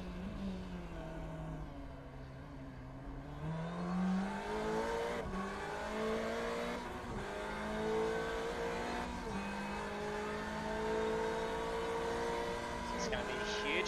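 Onboard a Ferrari 488 race car at Spa-Francorchamps in iRacing, engine climbing through the gears in repeated rising sweeps with sharp shift breaks, loud and steady, with a voice talking over it.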